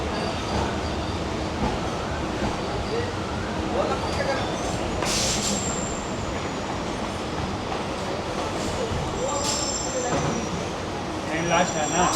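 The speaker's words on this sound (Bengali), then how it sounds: "আমাদের ট্রেন এখন ঢুকছে বিবাদীবাগ স্টেশনের এক নম্বর প্ল্যাটফর্মে" A Kolkata local train pulls into platform one at Bibadi Bag station with a loud, steady rumble of wheels on rails, occasional high metallic squeals and brakes hissing near the end.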